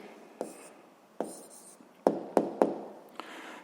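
Pen on paper writing an answer by hand, a few sharp taps and short scratchy strokes close to the microphone in a quiet room, with no talking.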